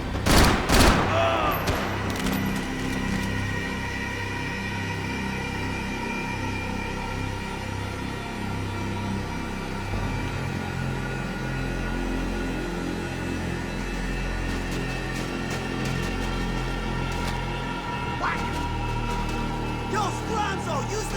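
Gunfire in the video game Max Payne 3 rattles in a dense, loud fusillade of rapid shots over a steady hum, with voices shouting through the exchange.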